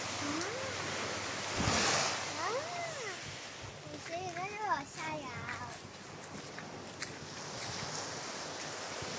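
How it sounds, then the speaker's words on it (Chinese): Surf washing onto Sungai Batu Beach at Teluk Kumbar, heard as a steady broadband wash with wind noise, while people talk and a voice rises over it in the middle of the clip. "这边是海"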